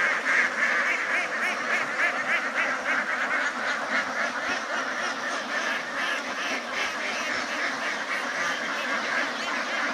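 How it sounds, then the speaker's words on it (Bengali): A large flock of about 1500 domestic ducks quacking together outdoors, a dense continuous chorus of overlapping quacks at steady loudness with no pauses. "এখানে প্রায় 1500 হাঁস আছে"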